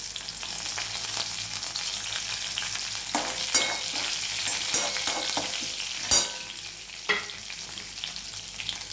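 A green chilli drops into hot tempering of mustard, cumin, chana dal and urad dal for a sweet pumpkin curd chutney, giving a steady close sizzle broken by several sharp stirring scrapes and clatters midway.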